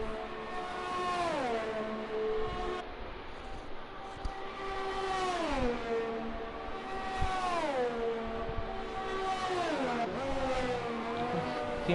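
A GP2 race car screams around the Belgian GP circuit in a racing video game, reaching about 330 km/h. Its loud, high engine whine holds steady, then repeatedly drops and climbs through the gearshifts.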